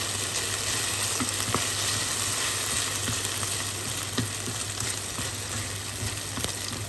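Onions and beef or veal frying together in a pot, a steady close broadband sizzle running unbroken with faint stirring clicks scattered through it.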